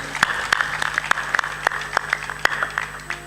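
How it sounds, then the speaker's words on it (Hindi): A crowd of devotees at a religious discourse claps in applause, a short burst of many sharp, irregular hand claps at close range with faint voices underneath. "ताली बजा दो"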